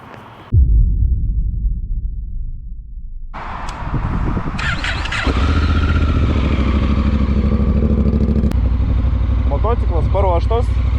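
A touring motorcycle loaded with luggage for a long road trip starts up and runs loud and close, its engine settling into a steady rumble with some clatter and a voice in the background.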